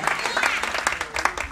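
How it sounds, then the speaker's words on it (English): A church congregation claps, a dense burst of many hands in a reverberant hall with uneven rhythm, fairly loud and close, with voices calling out over the applause. "You are not clapping very much for"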